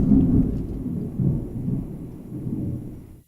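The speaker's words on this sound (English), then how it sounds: "Man, I love thunder." A low rolling thunder rumble fading out over a few seconds, near and fairly loud, alone without voices.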